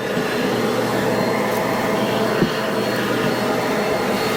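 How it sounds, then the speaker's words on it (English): Vacuum cleaner without a hose running steadily while sucking dust out of a home heater, a continuous loud whooshing whine with one brief bump and no voices. "do you want to get the vacuum and vacuum some of that dust out?"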